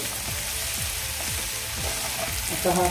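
Cabbage with spices sizzles in a frying pan while being stirred, a steady close crackle with rhythmic scraping strokes.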